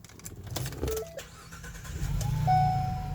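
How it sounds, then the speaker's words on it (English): A 2017 Ford Transit T350 XL van engine cranks briefly and catches, settling into a low idle, heard close with some clicks beforehand. "When I go to turn the van on,"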